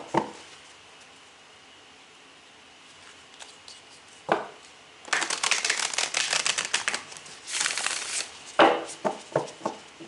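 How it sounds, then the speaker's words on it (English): Tarot cards shuffled by hand in several quick riffling bursts, close and fairly loud, with a few sharp taps and knocks between the shuffles and no talking over them. "let's go ahead and give these good old cards a good old shuffle, shuffle, shuffle, shuffle,"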